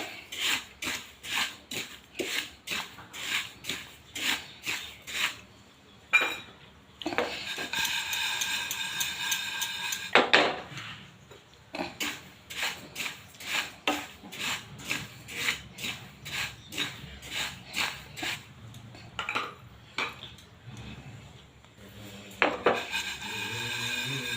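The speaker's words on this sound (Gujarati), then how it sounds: "મેગી માતા પે પાંચ મિનિટ જેવા તલ શેકી લીધા છે" White sesame seeds being dry-roasted in a pan, stirred with a metal utensil that scrapes and clinks against the metal in a quick, steady rhythm of repeated strokes, with a few short pauses; no one speaks.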